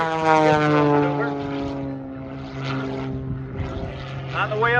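A propeller aircraft flies aerobatic maneuvers at the Oshkosh airshow, its engine droning loud and steady with a strong whine that shifts in pitch as it climbs and turns, while a commentator talks over it.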